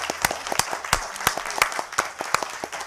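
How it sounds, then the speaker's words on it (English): Applause from the audience at a Connecticut cannabis community forum, a steady patter of many hands clapping close by for about three seconds with no talking over it. "so I can get all the applause"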